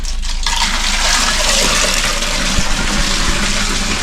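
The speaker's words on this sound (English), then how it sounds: "you use a bucket, you pretty much fill that bucket up and pour the water in the bowl, and you manually flush" Water from a bucket poured by hand into a toilet bowl to flush it, in a bathroom in Pinamalayan, Oriental Mindoro: a loud, steady rushing splash lasting several seconds, with no talk over it.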